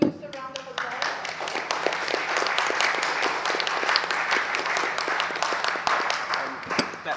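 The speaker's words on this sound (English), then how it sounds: "Please, just a round of applause." An audience at a science and ethics panel breaks into applause after a moderator's thanks, sustained dense clapping with a few voices briefly mixed in at the start, holding steady for several seconds.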